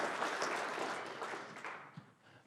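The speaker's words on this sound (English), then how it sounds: "give them a round of applause for what they do" Audience applause after a talk, a dense burst of clapping that starts loud and gradually thins and fades over a couple of seconds.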